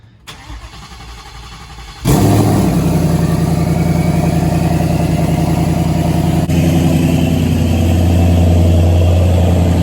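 A 1500-horsepower Ford Mustang fires up early in the morning: a short starter crank, then a sudden loud catch into a heavy, rumbling idle that swells and revs steadily, very close and dominant.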